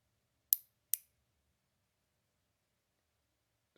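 Eclat nail clippers cut a nail with two crisp, quiet snaps in quick succession, then a third faint click after a pause, in otherwise near-silent surroundings.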